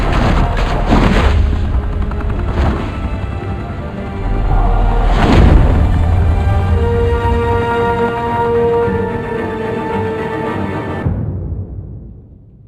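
Gunfire in a shootout in Batman: The Telltale Series, loud booming shots and rattling bursts with a deep rumble, ending in sudden quiet.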